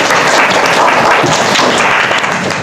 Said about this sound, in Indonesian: Kita berikan tepuk tangan untuk Putri, Novita, dan Mas Alif.